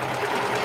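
A serger stitching the shoulder seam of a thick, layered sweatshirt dress, a brief fast steady mechanical whir heard up close.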